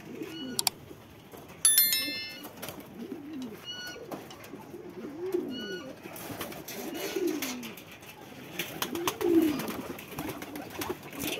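Local deshi pigeons on a rooftop loft in Bangladesh coo repeatedly in low, rolling calls, including a female calling, with a few sharp high ringing chimes near the start and soft background noise between coos.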